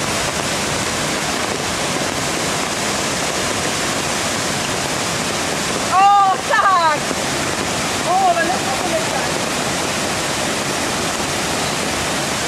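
Heavy, unbroken roar of a waterfall in Bali fills the scene, loud and close, with brief voices or calls rising over the rushing water around the middle.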